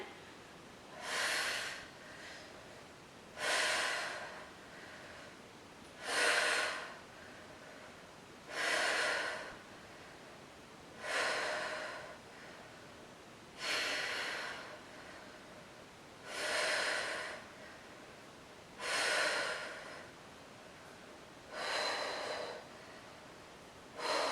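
Heavy, rhythmic breaths after a Pilates interval: about nine loud, hissing inhale-exhale bursts spaced a couple of seconds apart, close to the microphone, with no talking.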